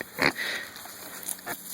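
A pig lets out short, squeaky whines at close range, a couple of thin high-pitched squeals separated by brief pauses in a quiet farm setting.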